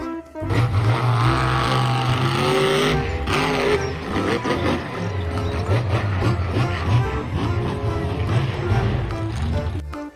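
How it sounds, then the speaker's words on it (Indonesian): Toy monster truck playing a loud electronic engine and racing sound effect that rumbles and roars continuously for about ten seconds. "Mobil monster."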